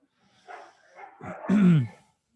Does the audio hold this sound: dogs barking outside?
yes